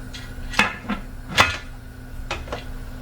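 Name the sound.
lid being put on a canner full of quart jars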